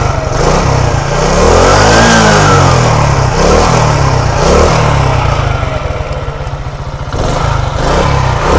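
Up close, the single-cylinder engine of a Honda CD80 cafe racer conversion runs loudly after a kick start, rising and falling through several revs before dropping back toward a rapid, even putter.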